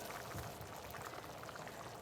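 Rice and rotisserie chicken boil in a pot on the stove, giving a steady, close bubbling and gurgling that runs without pause and with no talking.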